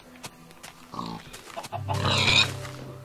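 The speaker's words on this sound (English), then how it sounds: "Come here, pig." Pig grunts from the Minecraft video game on Xbox, a few short snorts rising to a louder burst near the end, heard among game sound effects without speech.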